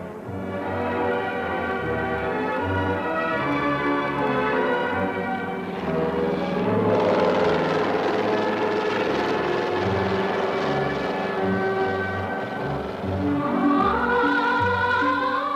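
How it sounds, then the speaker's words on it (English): A helicopter on a medical rescue flight in North Korea drones steadily with a loud, sustained rotor roar and engine hum that swells partway through, with no talk. "For this patient, a helicopter and medical doctors were sent by the dear leader, Comrade Kim Jong-il"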